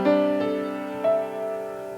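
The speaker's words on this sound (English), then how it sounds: "and these perfect fifths sound like this" Two musical tones a perfect fifth apart are struck one after the other about a second apart, each ringing with bright overtones and slowly decaying.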